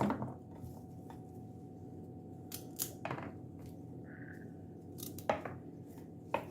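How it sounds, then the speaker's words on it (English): A few sharp knife cuts trimming broccolini ends against a board, spaced irregularly, with a faint high tone and a low steady hum in the background. "So I'm trimming off the ends."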